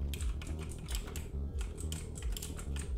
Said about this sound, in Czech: Já slyším tvojí klávesnici, nelži mi.